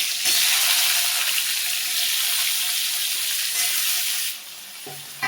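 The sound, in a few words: potatoes and plantains frying in oil with black cumin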